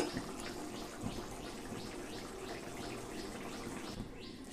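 Lote fish jhuro curry bubbling in a covered pot on the stove, a steady watery simmer with a regular run of soft pops and gurgles, moderately close and alone with no voices.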